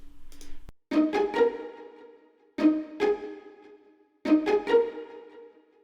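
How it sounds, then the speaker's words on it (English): A pizzicato strings sample for a beat plays alone, with short plucked notes in three quick clusters of two or three. Each pluck snaps and decays briefly, close and clear with no talk. "So here's the pizzicato on its own."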